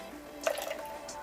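Two teaspoons of vanilla poured into half a cup of heavy cream, a brief soft trickle and a small drip close by, with a voice talking over it.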